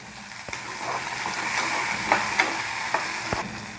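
Small onions, coriander and chillies sizzle steadily in a pan for chutney, a close, continuous frying hiss broken by a few sharp spatters and stirring knocks, with no talk.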